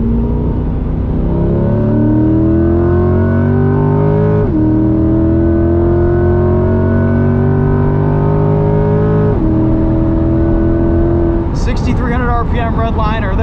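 A 2021 Chevrolet C8 Corvette Z51 with a track alignment revs hard toward redline while driving on a road. Engine pitch climbs steadily through repeated gear pulls, loud and close, with a brief whir near the end.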